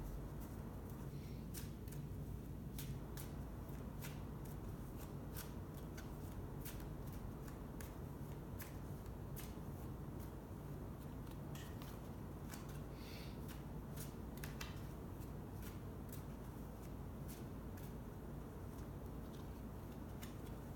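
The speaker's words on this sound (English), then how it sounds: "let's pull a card from the crystal deck" Cards from a crystal oracle deck are shuffled softly and pulled from the pile, with faint ticking flicks and riffles over a quiet, steady room hiss.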